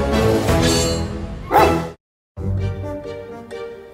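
A dog named Henry, one of three badly behaved dogs at home in West Sussex, gives a close, loud burst of barking and yips, a short gap of silence, then more yapping.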